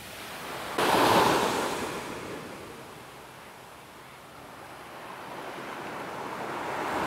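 Surf washing onto a beach at Koh Lanta, Thailand, a broad hissing swell that surges loud early, fades, then builds again, with wind rushing across the microphone and no talk.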